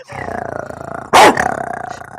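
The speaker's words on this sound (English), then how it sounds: "a good bark to wake everybody up" A dog gives one sharp, loud bark close by, set against a steady pulsing low hum before and after.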